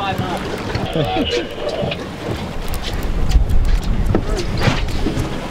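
The twin-turbo Cummins diesel of the California Flyer, a fishing boat out after bluefin tuna, rumbles close by under wind buffeting the microphone, with people talking nearby.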